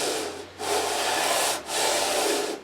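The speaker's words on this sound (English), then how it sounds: "we're going to switch over to the longest sanding block" Long even strokes of a long sanding block with 80-grit paper across a Gibson guitar fingerboard, two sustained rasping passes with a short pause between, close and steady.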